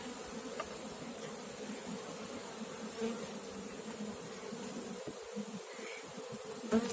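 A honeybee colony in flight around its hive during the first spring cleansing flight and hive inspection, a steady, dense insect hum holding at even loudness throughout, with no talking.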